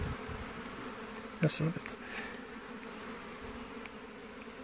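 Honey bees buzz around an opened hive during brood-frame handling in New Zealand, a steady close insect drone with a brief louder burst of activity near the middle while a person speaks briefly.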